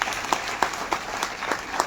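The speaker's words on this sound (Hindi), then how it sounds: "मैं चाहता हूं एक बार जोरदार तालियां उनके लिए होनी चाहिए" Applause rises from an audience at a Hindi motivational gathering, a brief stretch of steady clapping with a few sharper, accented claps standing out.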